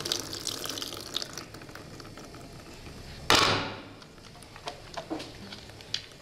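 Tap water runs steadily while soapy hands are rinsed, then a sudden louder gush hits the sink partway through and trails off into patters and splashes nearby, with no voices.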